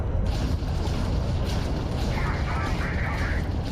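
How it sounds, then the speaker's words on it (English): A loud spaceship engine in the game Starfield roars steadily throughout as a dense, constant low rumble near a watchtower, with a faint hiss on top. "I don't know why my engine's being stupid loud"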